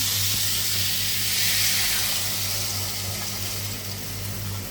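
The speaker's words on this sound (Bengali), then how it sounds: "এখন আমি পানি দিয়ে দেবো" Water hitting a hot pan of rui fish curry with new potatoes and tomatoes gives a steady, close hiss of steam and spray that swells slightly midway and holds for several seconds without speech.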